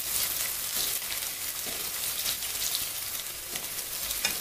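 Green chili and onion sizzling and frying in a pan, a loud continuous crackling hiss with occasional stirring scrapes, no voices.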